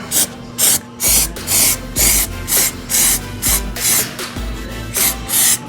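Rust-Oleum undercoating sprays onto a Jeep XJ in short, rhythmic hissing bursts, about a dozen close, even passes with brief pauses between them and no talk.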